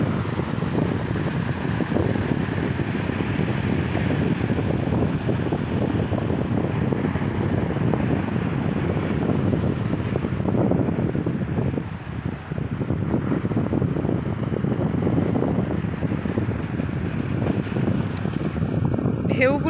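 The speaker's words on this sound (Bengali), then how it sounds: "প্রচুর ঢেউ হচ্ছে" Sea waves wash onto a sloping beach at Kargil Sea Beach near Bakkhali, West Bengal, a continuous loud roar of surf mixed with heavy wind buffeting the microphone throughout.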